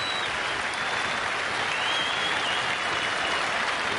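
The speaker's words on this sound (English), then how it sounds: "Applause from David Gower's England teammates in the dressing room." England teammates in the dressing room applaud David Gower's century at a cricket match, giving a dense, steady burst of clapping with no talk over it.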